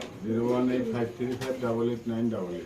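Low, throaty pigeon coos roll on continuously and close by, several birds overlapping in a steady murmur.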